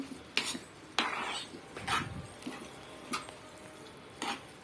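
Cooked pasta is stirred into gravy in a pan, with a spoon knocking and scraping against the metal in irregular clinks and soft clatters, close and fairly quiet.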